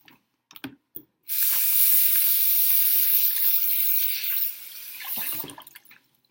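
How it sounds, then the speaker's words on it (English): Hands being washed under a running kitchen tap during a cooking demonstration, with a steady spray of water for about four seconds after a few faint handling knocks, then easing off. "I'm going to go ahead and wash our hands."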